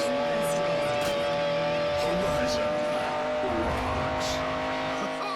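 A Bugatti sports car's engine drones at high speed in a Forza racing game, a loud, sustained tonal hum with brief tire squeals layered over it.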